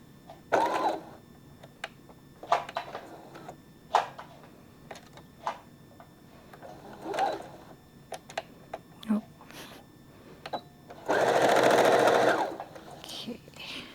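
A sewing machine stitches a ribbon skirt in short, separate bursts of rapid mechanical chatter, with one longer, louder run near the end, between quiet pauses and soft handling clicks.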